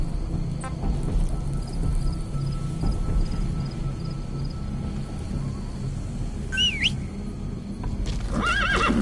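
A horse in the Metal Gear Solid video game whinnies and neighs several times over the clip-clop of hooves, with rain and rumbling thunder filling the background; no one speaks.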